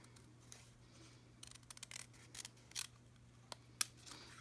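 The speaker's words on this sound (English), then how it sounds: "The best way to do this is to use the smallest scissors that you have, small and sharp." Small, sharp scissors snip paper for a lantern in a series of faint, irregular cuts close by, with a low steady hum underneath.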